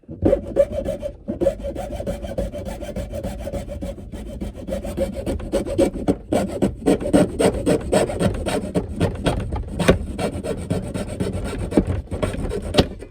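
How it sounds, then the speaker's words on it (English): A hacksaw cuts through material close by in continuous, rhythmic back-and-forth strokes that rasp steadily for the whole stretch, with no talking. "I'm going to start by using my hacksaw, because I don't know another way."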